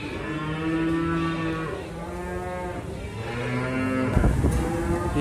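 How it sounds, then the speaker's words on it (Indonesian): Simmental cattle moo repeatedly up close, long drawn-out lowing calls following one another with a thump and some rustling near the end. "Sapi simental agak giras juga nampaknya"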